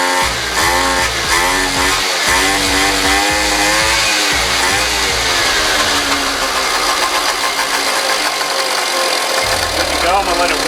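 A Jonway 50cc scooter engine, run again after a year of sitting and a carburetor cleaning, buzzes loudly and steadily up close with a rough, raspy two-stroke-like drone, its pitch rising and settling as it warms up.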